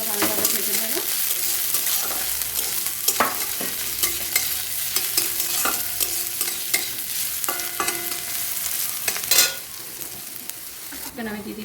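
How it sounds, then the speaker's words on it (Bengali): Chopped onion and a couple of green chillies fry in hot oil for a masoor dal, a steady close sizzle broken by repeated stirring scrapes and clinks of a spatula against the pan, with no voices. "কুচনো পেঁয়াজ আর সুন্দর একটা দুটা কাঁচা লঙ্কা দিয়ে দিলাম। এটাকে ভালোভাবে ভেজে নেব।"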